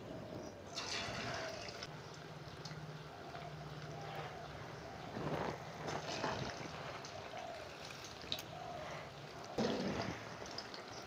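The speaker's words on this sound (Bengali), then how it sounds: "তেলটা গরম হয়ে গেছে। এবারে আমি একে একে পকোড়াগুলো ছেড়ে দেব।" Battered banana stem pakoras are dropped one by one into hot frying oil, giving soft, quiet bursts of sizzling and splashing over a low steady background.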